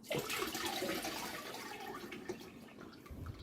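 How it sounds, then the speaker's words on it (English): Orange juice pouring steadily through a sieve into a demijohn in a close, splashing stream, a continuous watery rush that holds for several seconds without talk. "pour in the orange juice through the sieve"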